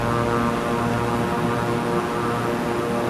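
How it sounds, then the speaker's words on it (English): A propeller aircraft engine roars at full throttle on takeoff in Microsoft Flight Simulator, a steady, loud, droning hum with a buzzing tone that holds without letting up. "Alright, I'm going full throttle. Alright, I just had a liftoff."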